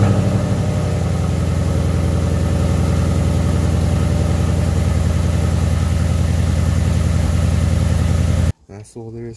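A 2015–2017 Ford Mustang GT V8 fitted with a Roush cold air intake fires up and settles into a loud, steady idle that runs for several seconds before cutting off abruptly, followed by a moment of speech.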